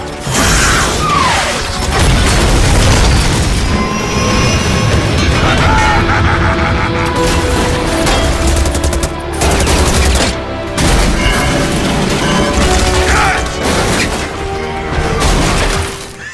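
Rocket fire and explosions from the Overwatch video game, dense and loud, with bursts of gunfire, mechanical clanks and booms stacked over each other, while character voices talk through the action.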